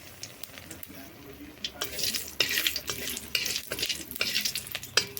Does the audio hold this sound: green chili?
yes